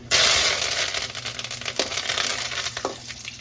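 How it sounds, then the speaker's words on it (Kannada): Curry leaves hit hot oil for a puri dish with a sharp burst of sizzling and spitting, loud at first and then settling into a crackling fry, with a couple of sharper pops near the end. "ಇವಾಗ ನಾನು ಕರಿಬೇವು ಸೊಪ್ಪನ್ನ ಹಾಕೊಳ್ತೀನಿ"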